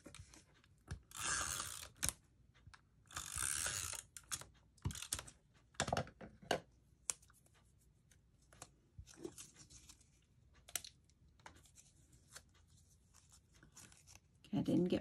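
Tape being torn and pressed down for a scrapbook mini album, quiet close crackles and rips in scattered short bursts between softer gaps, with a voice heard during the clip.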